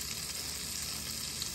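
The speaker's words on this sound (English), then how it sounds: "hear that sizzle? That's what we want to hear." Butter and oil sizzle steadily in a pan, a soft continuous hiss with faint crackles, quiet and close, no voices.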